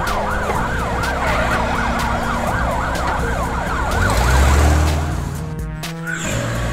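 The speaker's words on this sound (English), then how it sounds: "ambulance," An ambulance siren wails in a steady, rapidly cycling up-and-down tone through a toy-vehicle city scene set to children's songs, loud and continuous with a low rumble swelling near the end.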